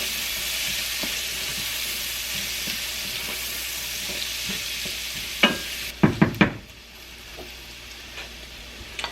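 Chicken pieces sizzling steadily in a hot pan, a constant close frying hiss throughout, with a few sharp scrapes and clanks from stirring near the end before the sizzle drops lower.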